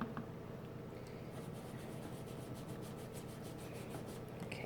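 Soft, steady rubbing and dabbing of a sponge pushing pink and yellow paint through a decorative mask onto an envelope, close and quiet, continuous for several seconds with no talking.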